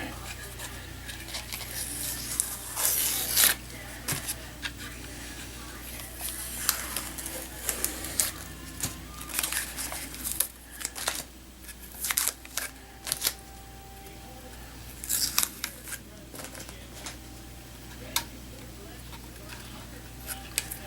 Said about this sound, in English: going backwards, removing the outer tape first.